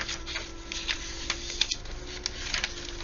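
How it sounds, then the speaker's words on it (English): Noisy paper handled while assembling a craft art journal: a steady crackling rustle with several sharper crinkles and snaps, close and fairly quiet, with no voices. "Some noisy paper."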